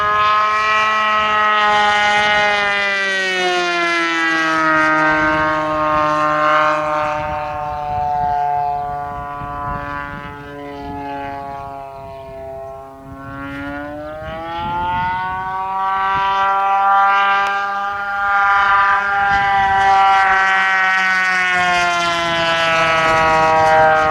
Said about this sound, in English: That's one noisy plane.